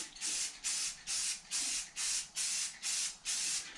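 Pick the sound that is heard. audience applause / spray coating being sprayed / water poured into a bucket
spray coating being sprayed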